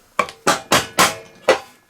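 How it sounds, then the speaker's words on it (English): A hammer taps gently on a Briggs and Stratton 850Pxi engine sump to ease a bearing seal off the shaft: five sharp metallic knocks at a steady, unhurried rhythm, close and clear, with no voices. "gently with a hammer"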